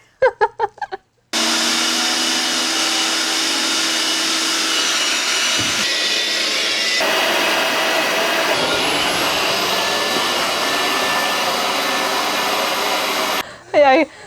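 A leaf blower runs steadily and loud for about twelve seconds inside a studio room, with brief bursts of other noise at the start and end.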